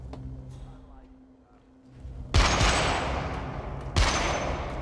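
Gunfire at a shooting range in the video game Hitman: two sharp, loud volleys of shots, each with a long ringing tail, following a quieter stretch of faint background hum.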